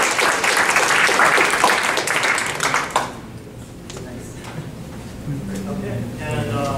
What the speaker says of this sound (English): let's probably give a bit more applause for our second